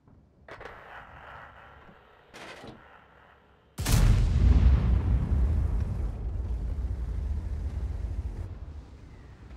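Tank gunfire in World of Tanks: a few faint muffled shots early on, then a sudden loud blast at about four seconds followed by a long rumbling roar and debris-like noise.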